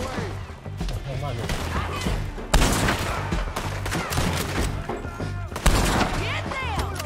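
Heavy gunfire crackles in dense bursts with booming artillery impacts, two especially loud blasts standing out, while voices shout over the continuous battle.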